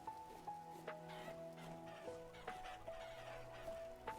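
Chickens cluck softly in the Vintage Story farming game, with several short repeated clucks over a faint, steady background tone.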